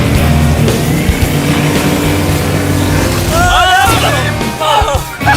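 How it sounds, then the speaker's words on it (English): Motorboats doing donuts on the water, churning a whirlpool: a loud continuous engine roar with rushing spray and wind, close and steady throughout, with excited shouting breaking in near the end. "they're doing donuts in the water. They're making a whirlpool"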